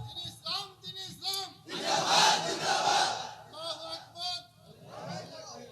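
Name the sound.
crowd chanting slogans at an Islamic sermon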